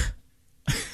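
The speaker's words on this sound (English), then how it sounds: "Turn your head to the left and cough" A single sharp cough lands close into a microphone after a brief silence, loud and abrupt against the quiet.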